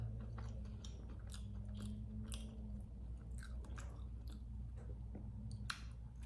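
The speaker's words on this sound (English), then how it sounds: "I'm going to eat a little bit" Close, steady chewing and biting of Little Caesars pizza and Wingstop barbecue and Cajun wings, with soft crunchy and wet mouth sounds repeating over a constant low background hum, no talking.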